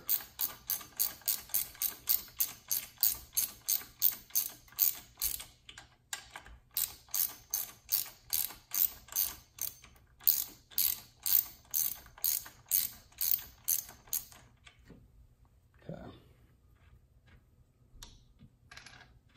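A ratchet wrench turns out already-loosened bolts on a 2018-2022 Honda Accord engine, sharp even clicking in long close rhythmic runs with brief pauses, falling quiet near the end, no talking.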